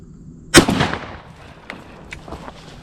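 One loud shotgun blast during a dove hunt in open country, followed by a rolling echo and a few fainter distant shots or thumps, with no talking.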